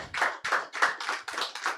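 A congregation at a worship service claps in rhythmic unison, about six crisp, evenly spaced bursts of hands striking together, close and clear with no talking.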